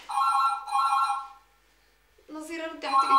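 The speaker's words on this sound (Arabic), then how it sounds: "ردي على التليفون" A telephone rings in a home in a Syrian TV comedy series: two sustained electronic ring bursts, clear and near, then a pause before a voice and other sounds come in.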